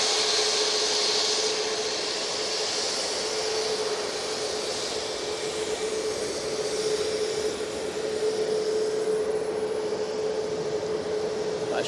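A Ryanair jet airliner at Manchester Airport gives off a steady, broad distant roar with a faint whining tone, continuous and moderately loud throughout.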